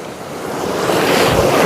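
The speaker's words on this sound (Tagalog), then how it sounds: "Tapos nandun yung rumaragasang tubig." Rushing river water at Tapuacan, a loud, dense roar of flowing water with wind buffeting the microphone, swelling slightly and continuous, with no talk.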